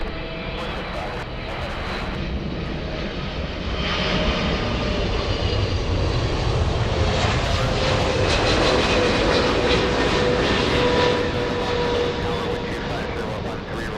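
Airliner jet engines at LAX airport roar steadily and fairly close, swelling gradually and holding loud for the whole stretch, with people talking faintly underneath.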